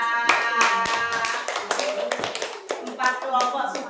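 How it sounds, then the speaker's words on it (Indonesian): Children in a classroom applaud a group of classmates with a burst of scattered, uneven hand claps, close and fairly loud, mixed with young voices. "Tepuk tangan kelompok Rasya"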